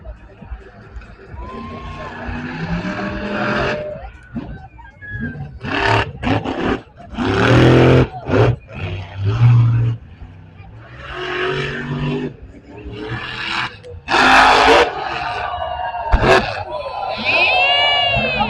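A Ram monster truck's engine roars in bursts during an arena run, loud, rough revs surging and cutting out over crowd noise, with an announcer talking throughout.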